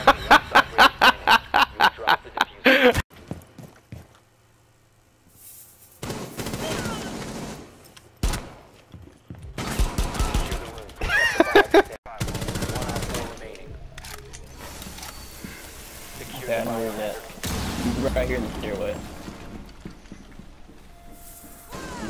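Gunfire in the tactical shooter Rainbow Six Siege: a rapid burst of evenly spaced shots at the start, then scattered bursts and impacts. Players talk and laugh over the shooting.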